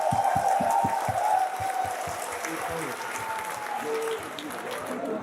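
A roomful of students at a meetup claps loudly in rapid, dense applause, the sharp hand claps strongest at first and then settling into a steady roar of clapping under crowd noise.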